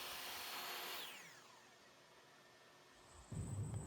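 A power drill with a 1.5-inch Forstner bit, boring wood, whines loudly and winds down as the motor slows, followed by a low rumble starting up near the end.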